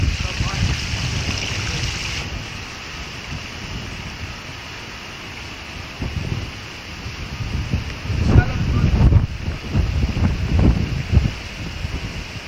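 Wind gusts across a sewage farm, a steady broadband rush with rumbling low buffeting that swells louder in the latter half, recorded close to an exposed microphone.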